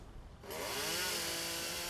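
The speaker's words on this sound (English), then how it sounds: "The peace and quiet of the chainsaw, I call it" A chainsaw roars to life in a Canadian coniferous forest, jumping from a low idle to a loud, steady high-revving whine that holds close and unbroken.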